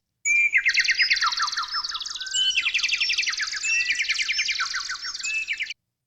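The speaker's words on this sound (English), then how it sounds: "Ernie the Eagle flies away" Bird chirping as an eagle flies away: loud, close, continuous trilling tweets and warbling calls run for about five seconds, alone and without talking.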